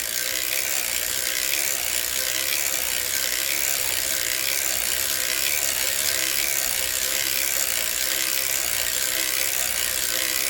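An Erlbach circular sock knitting machine running a 64-stitch shortie sock with heel tab, giving a continuous dense mechanical whirring and ratcheting hiss at an even level throughout, close by with no talking.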